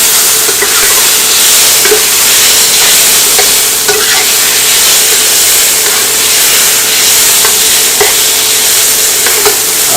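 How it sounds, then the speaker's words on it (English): Pasta being stirred in a pan for a baked cheese and spaghetti dish, a steady close-up hiss and sizzle with faint rhythmic scrapes running unbroken, no voices. "Next up, we will be putting our pasta in there as well. We're going to stir it up."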